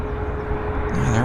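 WestJet airliner inbound from Calgary touching down on the runway at Vancouver YVR airport, a steady loud broadband jet roar with a sustained engine tone that rises in pitch and intensity toward the end.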